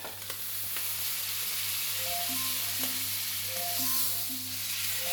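Steak sizzling loudly and steadily in a hot pan, a continuous crackling hiss with a faint tonal hum underneath.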